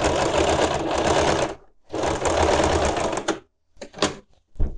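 Sewing machine topstitching a denim apron made from old jeans, running in two long steady bursts and then a few short stitches, close and loud with no talk.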